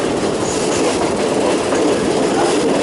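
A southern line passenger train running from Thonburi to Lang Suan, with a steady loud rumble of wheels on track and faint clickety-clack throughout, no talking.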